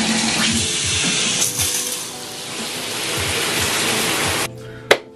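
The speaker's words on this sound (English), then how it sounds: "So we're gonna go take a shower and then get ready for the day" A shower runs as a loud, steady hiss of spraying water, then cuts off abruptly near the end, followed by a single sharp knock.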